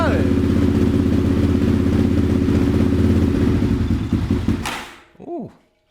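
A neglected Yamaha Raptor ATV engine running on choke, loud and close with a steady rapid throb for several seconds, then sputtering and cutting out, followed by a brief voice.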